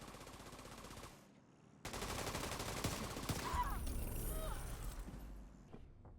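Automatic gunfire in the shooter game The Division 2, a dense, continuous burst of rapid shots that cuts out briefly and then resumes, loud and close, with mechanical clatter.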